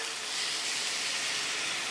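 Water is added to a hot pan of sweet potato to steam it, producing a loud, steady sizzling hiss that fills the whole moment.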